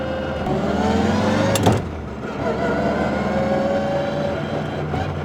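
NA Miata fitted with a GearMotive ZF dogbox pulls hard, its engine note climbing, then a sharp clunk as it shifts gears before it rises again, loud and close from inside the car.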